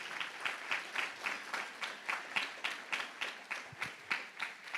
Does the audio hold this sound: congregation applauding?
yes